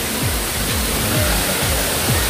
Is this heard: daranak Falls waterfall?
yes